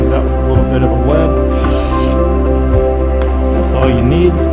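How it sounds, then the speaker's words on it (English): Short burst of Loctite spray adhesive sprayed from a can onto a paper template in a knife-making workshop, a brief hiss about half a second long over a loud steady hum and background voice. "Sprays out a little bit of a web."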